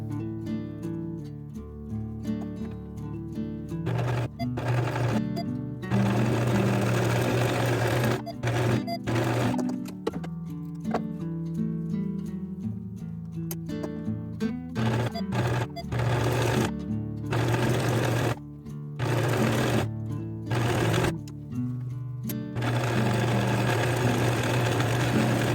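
A sewing machine whirs in bursts of rapid stitching on a skirt, starting and stopping several times with short pauses, loud and close with no talking.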